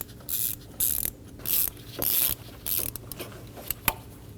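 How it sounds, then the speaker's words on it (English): A ratchet drives out the throttle body screws on a 2012-2022 Volkswagen Passat 2.5L five-cylinder, with loud, close bursts of rapid clicking, repeated in short strokes and pauses, then scattered single clicks. "we're going to remove the 4 screws for our throttle body"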